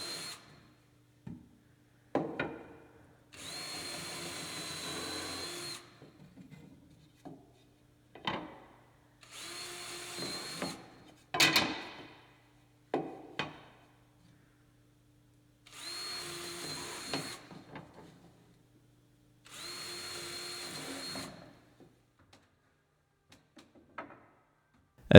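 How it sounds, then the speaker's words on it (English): Power drill pre-drilling holes in the wooden header and top slam strip of a gazebo screen door, in repeated bursts of a few seconds each with quiet gaps and handling clatter between them. "Pre-drill the header and the top slam strip."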